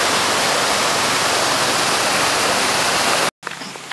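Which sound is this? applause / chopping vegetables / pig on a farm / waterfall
waterfall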